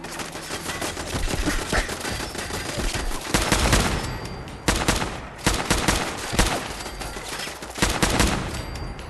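Gunfire from a weapon in Fallout 4, dense rapid shots in repeated loud bursts with short pauses, close and alone.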